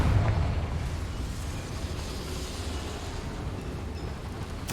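A fiery Confringo spell blast in Hogwarts Legacy, a sustained broadband roaring rumble with low booming weight that holds steady for several seconds before a sharper burst at the end, loud and close with no voices.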